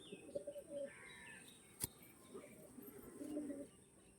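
Pigeons of the same generation, young birds kept for breeding, coo softly in low bursts near the start and again toward the end, with a faint chirp and a sharp click between them.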